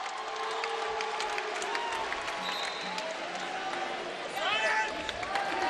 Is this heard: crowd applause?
yes